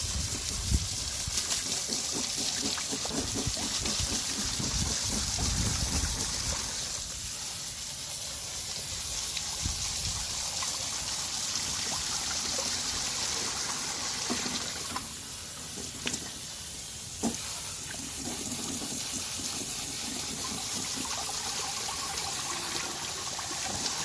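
Water runs and trickles steadily while an aquarium filter is rinsed clean, a close continuous splashing flow with small gurgles that eases slightly partway through.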